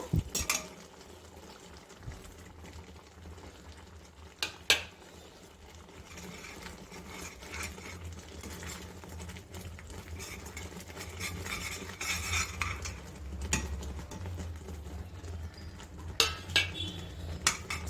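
A spoon keeps stirring besan flour into ghee in a pan on a low flame while making coconut burfi. The scraping is soft and continuous, broken now and then by sharp metallic clinks against the pan, and no one speaks.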